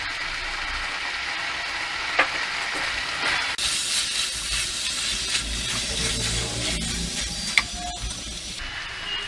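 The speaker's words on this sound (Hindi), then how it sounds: "और 2 मिनट भूनते हैं।" Macaroni pasta frying in a pan with vinegar and salt, a continuous broad hiss and sizzle that grows brighter and louder partway through, with a few faint clinks of a stirring utensil.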